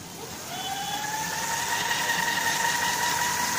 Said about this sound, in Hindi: आप इसे देख सकते हैं कि मोटर की स्पीड कितनी है।